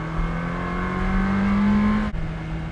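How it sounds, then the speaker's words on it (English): The V8 engine of a 2003 Ferrari 360 Modena Spider drones steadily up in pitch, then abruptly cuts off as the gear changes and the engine settles again. "Great sound from that V8."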